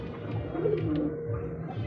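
A male Rajgolla pigeon coos in a short, close, low throaty phrase over faint background noise.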